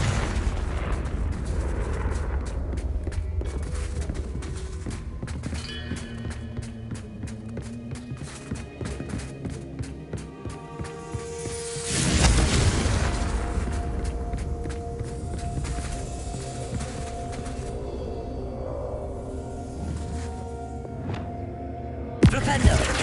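A Confringo fire spell explodes in the video game Hogwarts Legacy, one broad blast bursting out about halfway through, over running footsteps and busy game effects that fill the rest of the clip.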